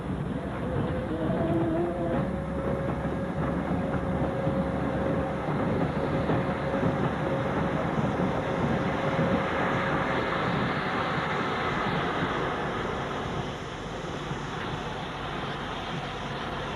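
A heavy freight train rumbles steadily past on a railway line near Copy Pit, with a diesel at the head and a steam 8F locomotive banking at the rear, a loud continuous roar and clatter that eases slightly toward the end.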